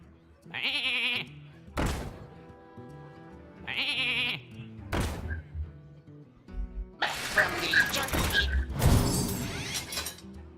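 Two short electronic sheep bleats sound in quick succession in Hearthstone, then a burst of crunchy game effects and clatter fills the rest.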